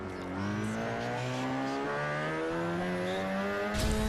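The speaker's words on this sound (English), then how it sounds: "The idle sound for this car" A twin-turbo rotary-engine car in Forza Horizon gives off a deep, steady engine drone that rises slightly in pitch, then ends with a brief burst of louder noise. No one speaks.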